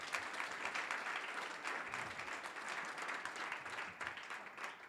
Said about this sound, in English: Please applaud our participants.